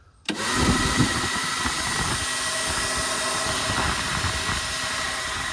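Cooling fans for car audio amplifiers switch on with a sudden start, then settle into a steady, loud whirring hum with a faint whine that holds to the end, alone with no talk.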